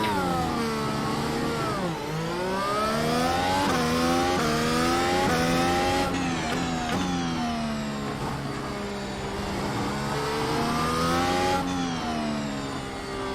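Simulated Mercedes W13 Formula 1 car pulling away on cold soft tyres in a racing game, its high-pitched engine note climbing repeatedly through the gears, loud and steady with no talk.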